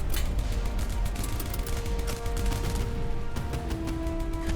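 Rapid bursts of automatic gunfire in a boat crew combat video game, dense cracking shots repeating throughout at close range, with a low mechanical hum running underneath.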